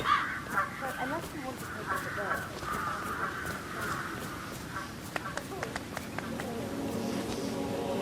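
Crows caw repeatedly in the Dartmoor level of the video game Hitman 3, a steady string of calls over ambient game sound while people talk throughout.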